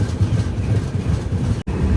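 The Visakhapatnam Express, train 12862, runs through Sitafal Mandi station with a continuous, loud, low rumble that dips briefly near the end.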